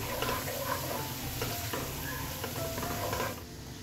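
Garlic frying in a pan for black pepper chicken, a close, steady sizzle with light crackling and the occasional stir, fading slightly at the end.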